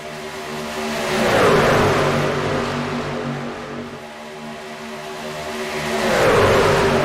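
Racing truck engines roar in the Area 51 Racing League truck series video game, two swelling passes of revving, whirring engine noise rising and falling over several seconds.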